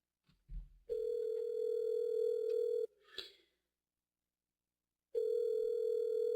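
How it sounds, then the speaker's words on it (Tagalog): A landline telephone line tone purrs steadily from the handset, a sustained tone for about two seconds, a short pause with a faint click, then the tone resumes near the end. "Sa landline na nga lang ako tatawag."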